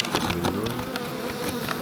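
Honey bees nesting in the ceiling of a farm building buzz close by, a dense, continuous hum of many wings with small flyby swells, and no talking.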